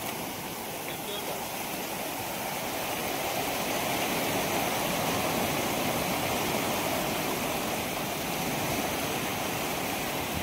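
Sea waves wash over a rocky shore at Velas in Mandangad, where people are hand-net fishing. A loud, steady broadband roar of surf fills the whole stretch without a break.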